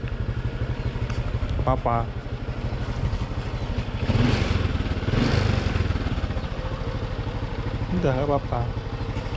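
A motorcycle engine idles with a steady low chug and then revs up twice, its pitch climbing and falling, while people talk close by throughout.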